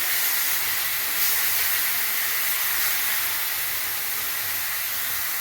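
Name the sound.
stuffing mixture sautéing with tomato sauce in pan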